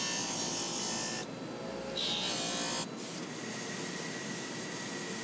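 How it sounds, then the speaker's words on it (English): Broadband abrasive whir of a power sander shaping a wooden piece for a DIY ring light, steady and close throughout with brief dips in level, no talking. "I gave it a little shape on the sander."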